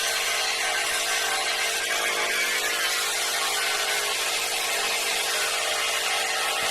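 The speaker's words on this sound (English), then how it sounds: "we're just going to hold it at a slight angle and grind it away" Belt sander with coarse 24-grit belt grinding a steel file into a knife blade, a steady loud hissing abrasive roar that runs continuously without pause.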